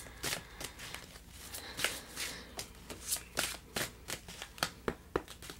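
A deck of oversized tarot cards is shuffled by hand close up, a series of crisp riffling bursts and soft slaps in an irregular rhythm, with no speech.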